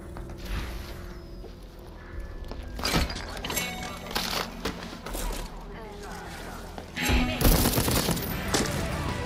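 Turret gunfire in Deathloop, loud sharp bursts at intervals with heavier blasts near the end, over game ambience and mechanical clatter, while someone speaks French between shots.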